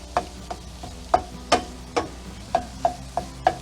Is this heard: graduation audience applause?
no